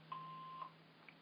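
An answering machine beep sounds as a single clear, steady electronic tone of about half a second, with a faint hum underneath and no talking.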